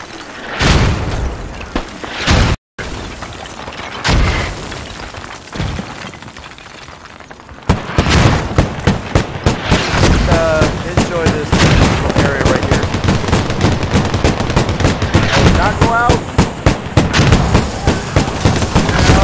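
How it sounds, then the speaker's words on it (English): Mortar shells land in a rapid barrage of loud, heavy explosions in a combat game, first a few scattered blasts and then a long dense run of booms with crackling debris, while a voice shouts over the chaos. "That was an accurate mortar fire."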